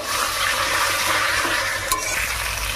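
Spice masala stir-fried for a rui fish curry with gathi kochu gives a continuous close sizzle with rhythmic stirring and scraping against the pan and one brief metallic tap, no speech.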